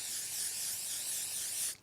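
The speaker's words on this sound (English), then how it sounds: "I spray a lot of it because I wanted my face to stay." L'Oreal Paris Infallible 3-second setting mist in a red bottle sprayed steadily onto a face, one continuous close hiss lasting nearly two seconds before cutting off.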